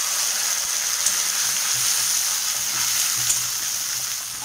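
Onions and spices fry in a pan with a loud, dense, continuous sizzle heard close up, steady throughout with faint occasional crackles and no voices.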